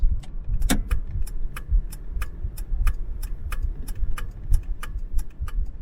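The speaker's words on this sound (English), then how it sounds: "Got a very clicky indicator and indicator function as well. It really clicks in when you push it." Turn indicator of a 1991 Mitsubishi Lancer clicking in a steady, even rhythm of sharp ticks, about two per second, close and clear over the low rumble of the car driving.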